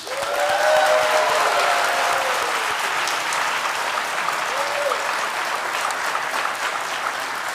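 City employees receive a sustained round of applause from a large audience at Durham's State of the City address, dense clapping and some cheering holding steady for several seconds, with brief whistles early on.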